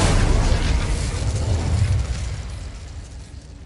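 Incendio fire spell from Hogwarts Legacy going off as a loud, close blast with a deep rumbling boom that fades over a few seconds.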